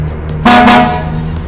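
A single short, loud car horn toot sounds close by, delivered as a samcha horn pattern from an automatic 10-tone delay box, then fades quickly.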